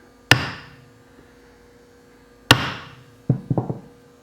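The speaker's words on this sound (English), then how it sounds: "try the old brass hammer." A brass hammer taps a steel part of a plastic injection mold in a workshop: two sharp single strikes, then a quick cluster of lighter taps, over a low electrical hum.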